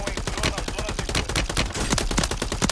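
Rapid bursts of video game gunfire crackle in quick succession, dense and continuous, with a voice faintly underneath.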